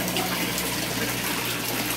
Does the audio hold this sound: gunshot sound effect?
no